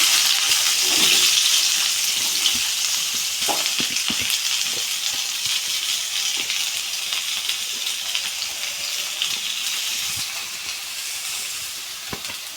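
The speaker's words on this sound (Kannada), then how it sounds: "ಬಾಣಲಿ ಆಲ್ರೆಡಿ ಯಾವಾಗಲೇ ಕಾದಿತ್ತು ಇವಾಗ ಈರುಳ್ಳಿ ಹಾಕೋತಾ ಇದ್ದೀನಿ" Onions frying in a hot pan of oil while an Indian gobi dish is cooked, giving a steady, fairly loud sizzle and hiss throughout with occasional stirring clinks, no talk.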